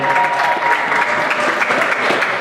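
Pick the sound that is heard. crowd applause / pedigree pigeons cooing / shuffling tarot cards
crowd applause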